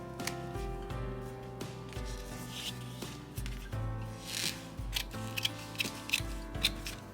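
Scissors snip through a sewn paper journal cover in a run of close, crisp rubbing cuts over a steady low hum, with no talking.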